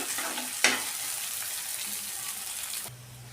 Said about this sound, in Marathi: यामध्ये घालून घेऊया शिमला मिरची शेंगा मिरची यासोबत आपण थोडीशी परतून घ्यायची